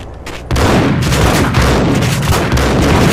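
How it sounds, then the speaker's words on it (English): Shotgun blasts in the video game Max Payne, heavy booming fire that fills the short stretch, loud and close, with rumbling reverberation running together after a softer opening. "Two shotgun blasts from maybe, like, 10 feet away."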